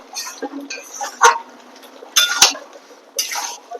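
Metal lid handled and set on a pot of simmering chicken curry in a home kitchen: several close, bright clanks and scrapes in separate bursts, with quieter clinks between them.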